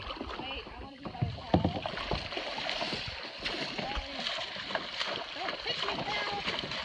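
Kayak paddling down a river in Texas, with steady water splashing and paddle strokes close by while a person talks over much of it.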